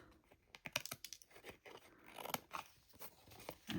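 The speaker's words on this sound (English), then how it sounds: "I'm going to cut this off." Scissors snip and crunch through stiff card in a series of short, close cuts, some quick and clustered, others spaced apart.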